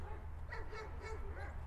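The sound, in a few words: Weimaraner and German Shepherd dogs barking and quarreling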